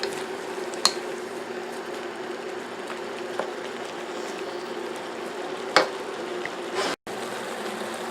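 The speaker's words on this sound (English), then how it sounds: "As we stir fry, you can see the shrimp is starting to get done." Shrimp and vegetables stir frying in a pan for sweet chili ramen noodles, a steady soft sizzle running throughout with a few sharp clinks of the utensil against the pan.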